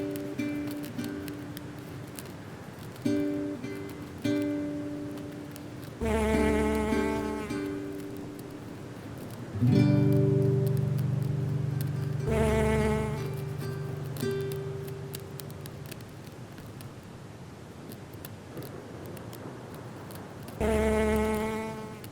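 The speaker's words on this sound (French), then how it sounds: "la grosse fleur du chardon attire énormément les bourdons, qui butinent sans relâche toute la journée" Bumblebees foraging on a blue sea holly flower in coastal dunes, their buzzing swelling in several loud bursts as they fly close, with fainter humming and quieter gaps between passes.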